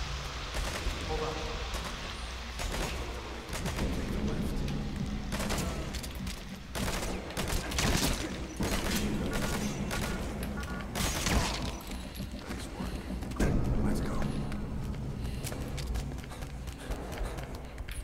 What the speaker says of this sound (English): Then press the attack button to fire. Destroy it.